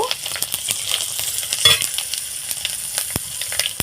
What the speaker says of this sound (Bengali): এখানে আমি পাঁচ ফোড়ন দিয়ে দিলাম আর আমার মিসকা খাবে তো তার জন্য আমি দুটো লঙ্কা দিয়েছি